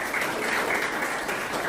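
Audience clapping at a Republic Day tree-planting event at Vyas Academy school, a steady dense wash of applause from a crowd that holds evenly through the whole moment with no voices over it.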